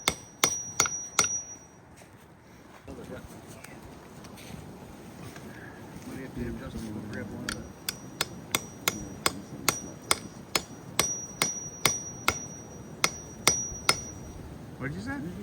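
Sharp metallic hammer strikes ring out, a quick burst at first, then a long steady series of regular blows after a quieter windy stretch.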